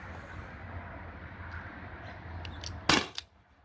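A modified T4E HDP50 CO2 pistol fires a single 8.4 gram steel ball bearing, one sharp close pop with a brief trailing clack, alone against a quiet room.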